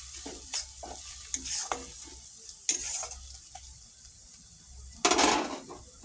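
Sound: chili powder being sautéed and stirred in a pan

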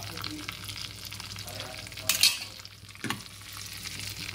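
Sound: tempering frying in pan for dal

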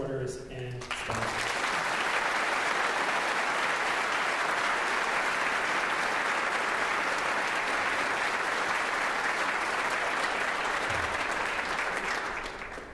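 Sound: applause for supporters and sponsors at a gala concert

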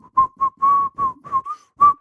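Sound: person whistling

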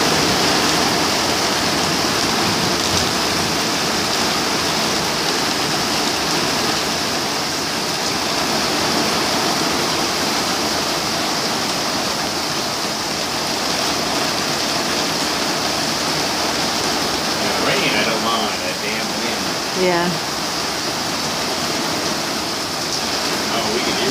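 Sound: rain

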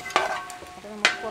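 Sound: stirring roasted ground spice paste in a pan

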